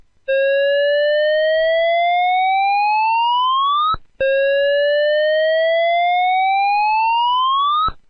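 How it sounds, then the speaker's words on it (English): A fire alarm's evacuation signal, an electronic tone sweeping steadily upward in pitch, loud and close, sounding twice in a row with a brief gap between the two long rising whoops. "The evacuation signal sounds like this."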